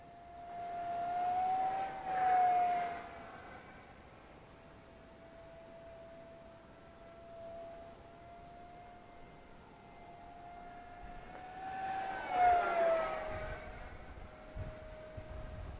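An Arrows T-33 Shooting Star 50mm EDF model jet flying at a distance, a thin, steady electric fan whine that swells twice as it passes closer and fades between passes.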